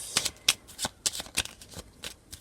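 Oracle cards being shuffled by hand, a quick run of crisp papery riffles and slaps in an irregular rhythm, close and clear with no talking.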